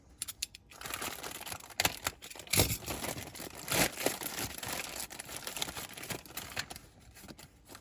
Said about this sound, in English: we'll cut these bags open